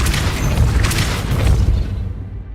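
A Depulso spell impact in Hogwarts Legacy lands as a deep, boomy blast that rumbles steadily for about two seconds before cutting off.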